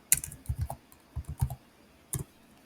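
Typing on a computer keyboard into a spreadsheet cell, close crisp key clicks in quick bursts of several strokes with brief pauses between, no voices.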